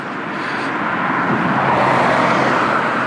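A car passes on a snowy country road between Elbingerode and Rübeland in the Harz, a broad steady whoosh of tyres and engine swelling slightly and holding near, with no talk.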